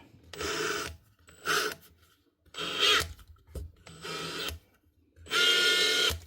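A worn Makita nut gun with a failing bearing whines through five short, harsh bursts of about a second each, separated by brief pauses. It is close-up, with no talking.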